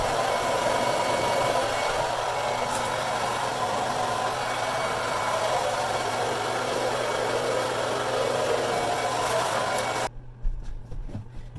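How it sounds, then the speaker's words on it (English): A handheld blow dryer heating insulating shrink film on a window gives a steady, loud broadband whir that runs unbroken for about ten seconds, then cuts off abruptly, leaving faint room noise. "just feel it out with your blow dryer"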